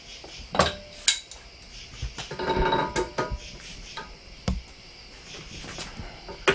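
Pipe wrench working loose the pinion nut on a Ford OBS 7.3 solid axle, giving sharp metallic clanks and clinks spaced irregularly, with a scraping ratchet-like stretch in between, close and fairly loud.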